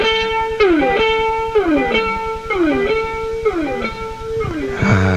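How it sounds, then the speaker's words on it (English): Guitar notes run through a Maxon DM1000 digital delay set to a long echo, each phrase trailing off in repeated, fading copies that overlap the next notes, loud and close with no talking. "a longer echo for you"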